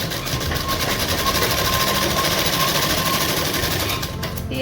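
A sewing machine stitching pleats into a salwar runs steadily and loudly for the whole stretch, its fast rhythmic mechanical chatter close and uninterrupted, with no talking.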